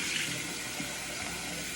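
Water runs from a tap to rinse out a glass jar, a steady close rushing spray that continues without a break, with no voices.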